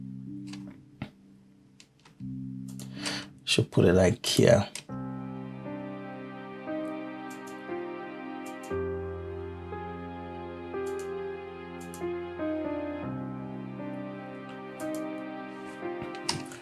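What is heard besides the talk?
string chords played with Kontakt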